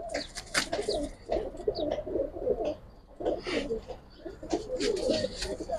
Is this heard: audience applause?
no